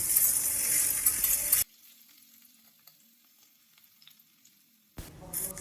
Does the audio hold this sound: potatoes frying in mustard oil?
yes